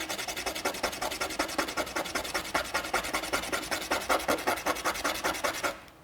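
Sandpaper rubs the hard black outer shell of a lotus seed in quick, even back-and-forth strokes, about four per second. The rasping is close and steady for nearly six seconds, then stops.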